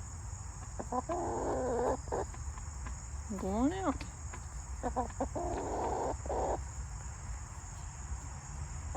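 A hen settled in her coop for the night gives several close, soft clucks and a warbling call among steady cricket chirps, with someone speaking briefly.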